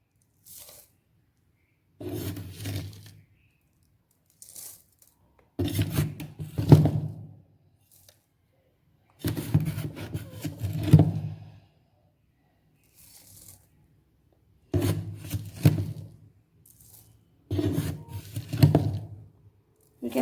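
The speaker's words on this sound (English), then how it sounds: "You will want a mortar and pestle. I am showing you how to grind." Playground soil being ground in a mortar and pestle, gritty scraping bursts of a second or two repeated with pauses between, close and fairly loud.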